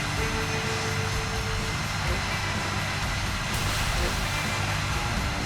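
Aircraft engine drone from the War Thunder video game, a steady loud roar filling the whole stretch without pause.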